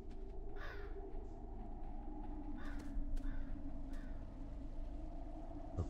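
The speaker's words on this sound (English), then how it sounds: "Hello, crows." Crows caw in the video game Light Of Veilendor, several hoarse calls scattered over a constant low ambient rumble, moderately distant and without talk.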